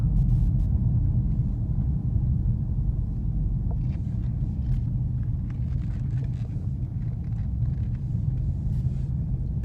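A Chevrolet Equinox engine idles after start-up. The car has a history of a broken chain. It gives a low, steady rumble close by, with faint intermittent clicks and rattles above it and no voices.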